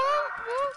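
A voice imitates a police siren with a rising and falling wail, loud and close, lasting under a second during an excited game stream.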